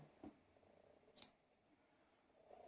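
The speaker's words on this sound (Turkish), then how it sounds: "Ben bunu buradan keseceğim." A single quiet snip of scissors cuts crochet yarn while working on a honeycomb-pattern baby blanket, close and isolated amid faint background rustling.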